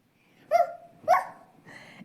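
A person imitates a dog barking with their voice: two sharp, loud woofs about half a second apart, then a shorter, softer third bark, close and alone.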